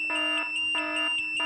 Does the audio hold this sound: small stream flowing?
no